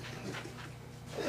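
Faint, rhythmic dog panting with a few breathy bursts in quick succession, close but quiet, with no talking over it.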